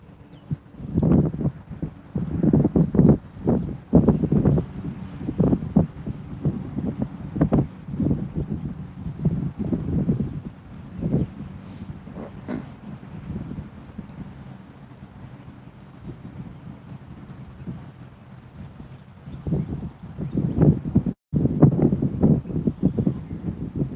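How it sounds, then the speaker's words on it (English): Wind gusts buffet the microphone outdoors during fishing, a rough, uneven rumble that rises and falls in bursts for most of the time and eases briefly near the middle. "Wind's back at it. Come on, wind."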